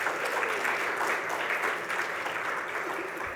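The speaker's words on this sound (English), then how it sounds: "Can I get a round of applause for Tenet?" Steady applause from a healthcare conference audience, many hands clapping at once in a dense, even wash that continues for the whole stretch and fades slightly toward the end.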